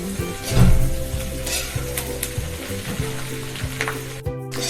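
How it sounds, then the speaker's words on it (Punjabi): Okra and onions sizzle and fry in a pan, a steady crackling hiss with occasional stirring scrapes and a brief clatter near the start. "ਸਾਡੇ ਜਿਹੜੇ ਭਿੰਡੀਆਂ ਪਿਆਜ਼ ਦੋਨੇ ਜੀ ਭੁੱਜਦੀ ਹੈ ਪਈ ਹੈ"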